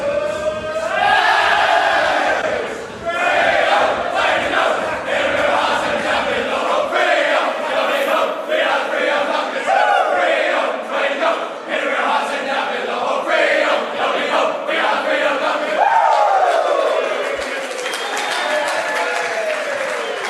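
Fremantle players and supporters sing the club song after an away win over GWS, a broad crowd of voices chanting in rhythm with cheering and applause layered throughout, loud and sustained.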